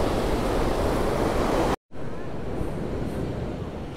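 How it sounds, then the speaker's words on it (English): Rough sea waves at Ciudad Jardín, Palma de Mallorca, a constant roaring wash of surf heard close with gusty wind noise, cut by a brief silence before continuing slightly softer. "I like these waves"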